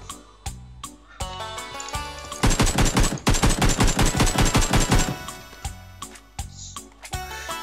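Automatic gunfire from a shooting video game, with a few scattered single shots followed by a loud, rapid sustained burst of about three seconds, then more isolated shots trailing off.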